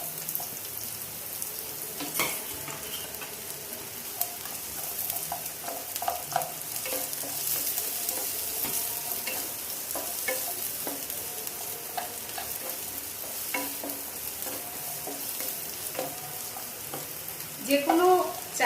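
Diced onion frying in very little hot oil for chilli soya, a steady sizzle with frequent scraping and clinking of a spatula against the pan throughout, a busier clatter near the end, no voices.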